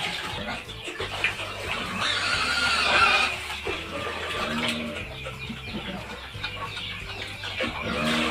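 Hens cluck and peck while eating a feed mixture, with soft scattered calls and tapping sounds at close range, and a brief brighter noisy patch partway through.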